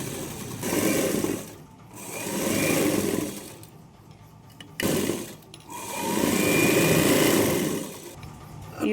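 A sewing machine runs in two long bursts while stitching the sleeve of a lined blouse, the motor whirring loud and close with a short pause between runs.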